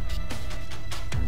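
A loud electronic air raid siren in Garry's Mod rises and falls in repeated sweeps over a constant low rumble, blaring like a game alarm.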